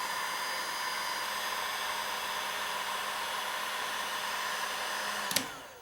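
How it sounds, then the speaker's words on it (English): A heat gun blows steadily and close while warming glue on a coyote jawbone handle and an obsidian blade. It makes a continuous whooshing hum that stops with a sharp click near the end. "I'm going to heat up both this portion and the blade."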